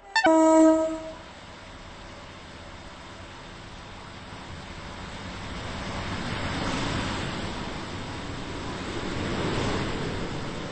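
A train in the Stepford County Railway video game opens with a short, loud horn blast, then settles into a steady rolling rumble of wheels on track that swells gently twice, with no talking.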